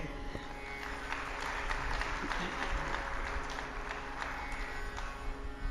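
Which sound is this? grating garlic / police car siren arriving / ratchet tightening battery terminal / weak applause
weak applause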